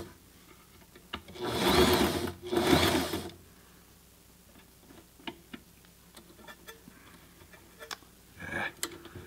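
A Sailrite Ultrafeed LSZ1 sewing machine stitches a fabric test piece in two short, loud bursts of whirring and needle clatter close by, then falls to faint ticks and taps before one more brief run at the end.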